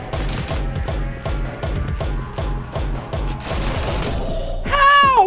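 A rapid series of punchy gunshots from the video game Angerfoot, about ten evenly spaced bangs, loud and close, followed by a ringing, warbling tone at the end.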